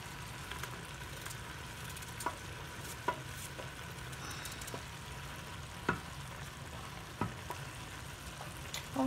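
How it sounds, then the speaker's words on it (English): Pumpkin frying in a pan, a quiet steady sizzle with occasional clicks and scrapes of stirring, soft and close with no speech. "while this is frying, then I can cut up some more pumpkin inside"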